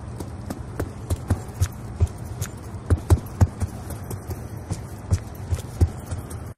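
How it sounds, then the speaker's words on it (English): Enemy footsteps in Black Ops 2, heard with the Awareness perk against a foe lacking Dead Silence: a quick, steady run of distinct thudding steps over a constant hiss of background game noise, fairly close and clear. "the footsteps can be heard quite clearly even if there's some background noise going on"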